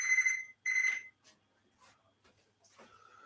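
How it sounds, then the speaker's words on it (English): A kitchen timer rings in two loud, bright bursts of about half a second each. Quieter clatter follows, and a short tone comes back near the end. "Only here comes the timer"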